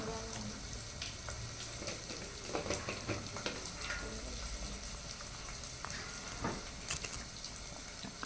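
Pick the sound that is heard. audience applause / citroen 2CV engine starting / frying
frying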